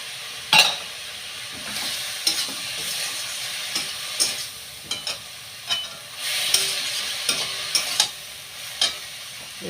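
Spices and ginger paste sautéing in a pan, with a soft sizzle broken by intermittent scraping and clinking stirs, some sharp and some sparse; no talking.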